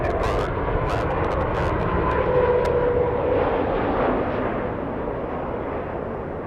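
Airliner taking off from runway 24 left at LAX, a powerful low jet roar filling the air, rumbling steadily and slowly fading as the aircraft climbs away.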